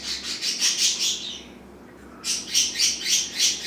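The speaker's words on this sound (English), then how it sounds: "while Gar squawks her butt off over there" A pet budgie squawks loudly in a kitchen where sunny side up eggs are cooking. Rapid rhythmic bursts of harsh chirps come close to the microphone, break off for about a second, then start again.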